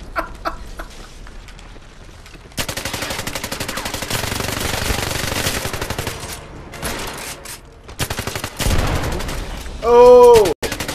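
Rapid gunfire from a James Bond video game, a loud sustained burst of repeated shots running for several seconds, with short pauses between volleys and a brief tonal game sound near the end.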